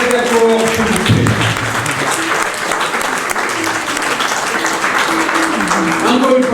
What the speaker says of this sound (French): je vous demande d'applaudir très très très fort